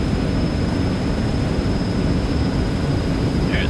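Eclipse 550 jet engines at takeoff power in the X-Plane 11 flight simulator, a steady loud broadband roar with a thin high whine, unbroken throughout.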